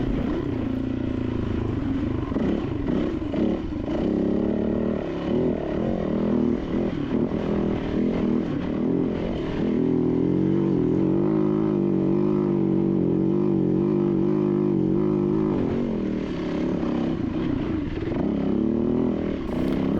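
Motorcycle engine droning steadily at mid revs, rising and falling slightly, as the bike rides through deep sandy ruts on a rocky trail, loud and close throughout with no talking.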